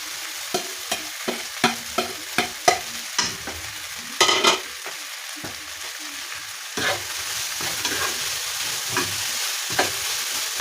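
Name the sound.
garlic frying and being stirred with beef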